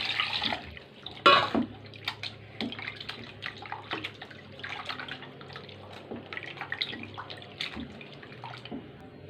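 Close, quiet splashing and dripping as mutton is swished around in water, with irregular sloshes and a louder splash near the start.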